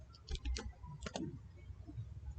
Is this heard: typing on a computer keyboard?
yes